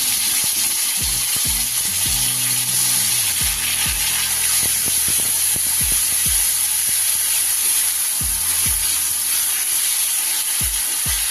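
Tomato paste goes into a frying pan with ginger and green chilli, and a loud, steady hiss of frying runs throughout, broken by a few soft low knocks.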